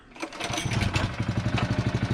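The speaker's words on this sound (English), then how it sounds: "Oh, you gotta love those Honda engines" A Honda small engine on a rotary lawn mower starts up and settles into a steady, loud, close running putter with a regular pulsing rhythm, used for spring scalping of a Bermuda grass lawn.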